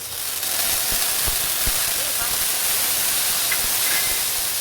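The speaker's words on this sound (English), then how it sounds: "I heated up about a tablespoon of vegetable oil. I'll go ahead and throw in the minced ginger." Minced ginger sizzling in about a tablespoon of hot vegetable oil, a steady broadband hiss filling the whole stretch with a few soft knocks underneath.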